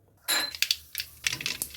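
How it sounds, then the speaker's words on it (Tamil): Mustard seeds popping and spluttering in hot sesame oil while tempering a bitter gourd tamarind curry, a quick burst of sharp crackles followed by scattered pops, close and fairly faint. "கடுகு பொரிஞ்சாச்சு"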